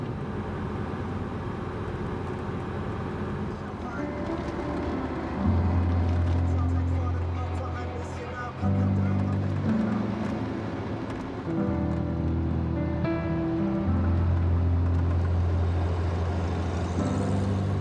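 A car drives along narrow, winding Route 9 toward Jujuy in the Andes, a steady close engine and road rumble running throughout, swelling slightly in places.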